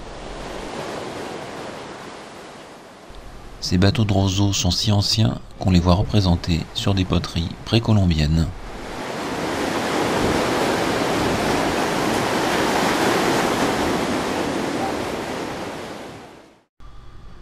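Ocean surf washes onto the Pacific shore at Huanchaco, Peru, a steady broad roar of breaking waves that runs throughout, with someone speaking over it in the middle before the surf continues alone.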